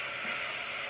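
Onions softening in a pan on an AGA cooker, giving a steady, even sizzle and hiss that stays constant with no talk over it.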